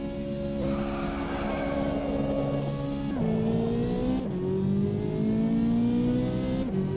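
A race car in the sim racing game Automobilista 2 launching off the line with launch control: a steady held engine drone, then revs climbing and stepping up through several quick gear shifts as it accelerates hard, loud and close.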